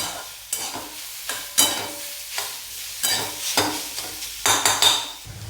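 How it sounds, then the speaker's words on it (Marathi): Roasted grated radish is stir-fried in a pan, an ongoing sizzle broken by repeated scraping strokes of a spatula against the metal every second or so, close and clear, with no one speaking. "आता हे असं परतवून घेऊया आपण"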